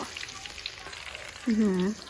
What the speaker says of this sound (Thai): เดี๋ยวเรารอทอดเสร็จกันเลยทีเดียวนะคะ